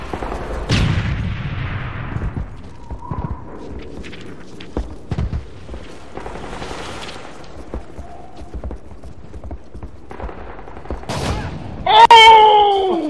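A shotgun match in the video game Modern Warfare 3 brings scattered gunshots and bursts of fire amid game effects, with a sharp, loud whine near the end, while someone talks and shouts over it.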